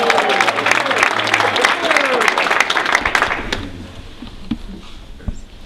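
A crowd at a West Virginia University Mountaineers gathering in Romney cheers and applauds loudly, with whoops rising over dense clapping that fades to scattered claps and murmuring voices.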